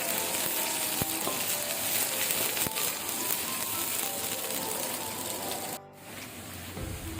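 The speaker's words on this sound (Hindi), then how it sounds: "यहाँ पे जी मैंने 2 मीडियम साइज़ के प्याज लिए थे, ये डाल दें। प्याज को अच्छी तरह से गोल्डन सा करेंगे।" Two medium onions fry in hot oil for chicken pulao, a dense, constant sizzle close up with a few faint utensil taps and a brief dip in the hiss near the end.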